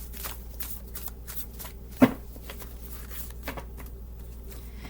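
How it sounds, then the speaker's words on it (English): Deck of playing cards being shuffled repeatedly by hand at a table, a series of soft riffling bursts with one sharper tap midway, close and fairly quiet, no talking. "That's why sometimes I just sit here and shuffle."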